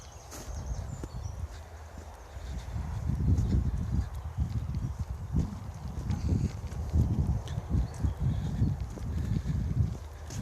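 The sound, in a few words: horse walking in a field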